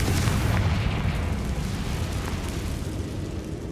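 Spell blasts in the Hogwarts Legacy video game, a dense, loud rumbling explosion with heavy low booms and crackling debris that slowly eases off.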